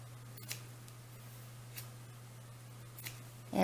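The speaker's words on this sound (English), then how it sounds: "I'm going to cut these off" Scissors snipping loose threads off a sewn godet doll dress, three faint, sparse clicks spread across a quiet moment, followed by a louder rustle at the end.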